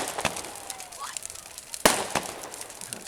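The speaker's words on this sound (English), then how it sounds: "we've got fireworks going off with all these embers, these orange embers going off in front of the fireworks" Bonfire night fireworks at Whiting Bay, Isle of Arran: a rising whistle, then a loud sharp bang and a few lighter pops and crackles, heard from a moderate distance in open air.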